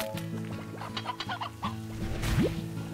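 A hen clucking in Slime Rancher, a quick run of close, choppy clucks over a low game hum, ending with a brief swoosh.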